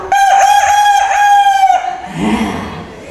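A storyteller at a kindergarten teachers' storytelling workshop imitates a rooster by voice, giving one loud, close, drawn-out crowing call that trails off into a softer, lower tail.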